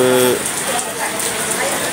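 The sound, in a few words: rain falling in Cameron Highlands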